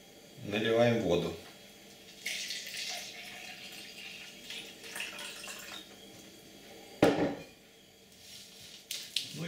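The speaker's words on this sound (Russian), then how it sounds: "Мы наливаем сюда воду." Water pours from a tap into a jar, a bright, hissing splash that swells and fades in a few bursts, with someone speaking at the start and a couple of sharp clunks in between.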